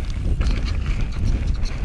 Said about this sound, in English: Oh, a bit windy, bit of a headwind.